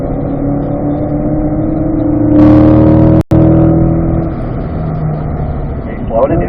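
A car engine drones steadily after an upshift into fourth gear on a mountain drive, with a brief surge in level partway through and one abrupt dropout, all fairly loud and close.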